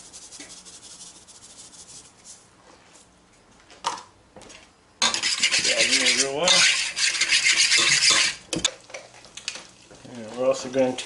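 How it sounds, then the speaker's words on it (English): A spoon scrapes and stirs flour into potato salad dressing in a pan, loud rough rasping strokes that run for several seconds after a quieter start, with faint voice traces in between. "make sure that flour is well mixed in there"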